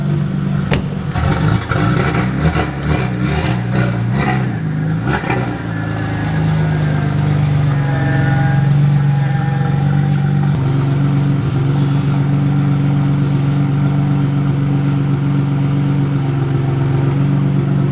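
An Audi S4 converted to rear-wheel drive runs with its engine warming up, giving a few sharp revs at first, then settling into a steady, loud idle drone close by, with no one talking.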